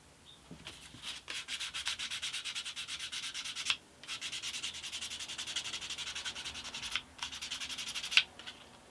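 Guitar picks are sanded by hand with 240-grit sandpaper: quick, fast-repeating rubbing strokes, soft and close, in steady bursts with short pauses between them.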